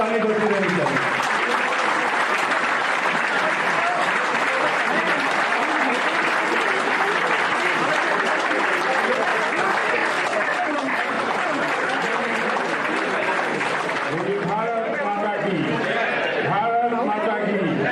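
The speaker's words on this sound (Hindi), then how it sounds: "आप सबके तालियों के बीच आदरणीय नंद कुमार साय जी को आमंत्रित करता हूँ।" A large audience gives loud, sustained applause at a Congress party political event where Nandkumar Sai joins the party. The dense clapping continues for the whole stretch and thins slightly toward the end.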